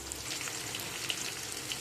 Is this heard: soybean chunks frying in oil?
yes